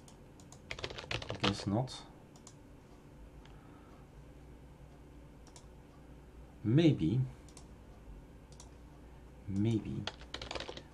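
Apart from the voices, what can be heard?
typing on a computer keyboard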